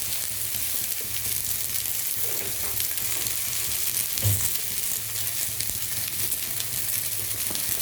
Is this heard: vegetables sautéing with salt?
yes